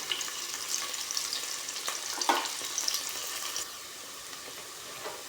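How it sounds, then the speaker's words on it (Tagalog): Onion, ginger and garlic sautéing in a pan for squid adobo, a steady close sizzle with bits of stirring and clatter, easing to a quieter fry toward the end. "Palutuin mo natin guys yung sangkap na sibuyas, luya. Lagay ko na rin ito guys, bawang guys."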